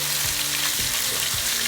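Ground meat for taco salad browning in an oiled pan, a steady loud sizzle with a few soft scraping strokes as it is folded and broken up, no voices.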